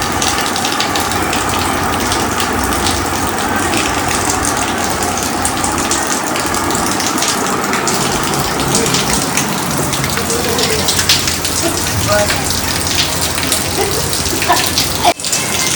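Steady rain pours down with a continuous dense hiss, loud and close throughout, with a faint low rumble beneath.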